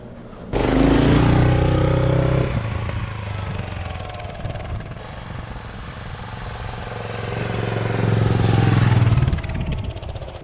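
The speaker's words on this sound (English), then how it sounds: "the engine idle's looking good" A Kawasaki KLR650 motorcycle engine idles close by with a steady, loud, throbbing mechanical drone that swells briefly near the end before settling again, with no voices over it.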